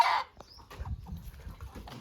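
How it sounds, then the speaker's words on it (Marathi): Rooster and chickens: a short squawk opens, followed by low, irregular clucking from nearby farm fowl. "सकाळ सकाळी आपल्याला जाग येणारा अलराम म्हणजे कोंबडा"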